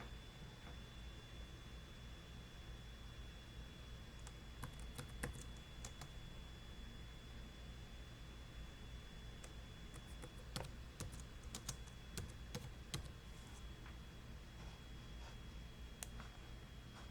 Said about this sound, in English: I'm typing my watch list up